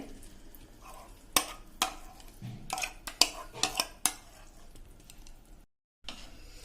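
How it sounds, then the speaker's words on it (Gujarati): A spoon stirs tamarind pulp and sugar in a pan for sweet-sour chutney, giving irregular scrapes and clinks against the metal over a low sizzle, with a brief silent gap near the end. "હવે મિત્રો જો આપણે આને સતત હલાવશું"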